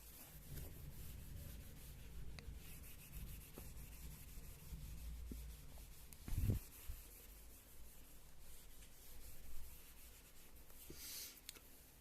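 A board wiped to rub out maths working during a lesson, a faint continuous rubbing and scuffing with one louder bump midway, quiet throughout and without talk.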